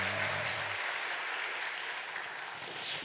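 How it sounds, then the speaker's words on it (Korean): A church congregation claps together for a deacon during a service, a dense, steady round of applause that fills the room for the whole stretch with a short voice at the start. "박수."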